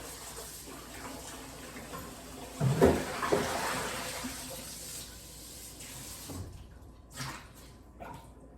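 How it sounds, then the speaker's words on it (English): Hands rinsed under a running kitchen tap while making pizza dough, a soft splashing stream with a brief louder gush as the hands move through the water, then quieter trickles and drips. "Rinsing my hands just a little bit."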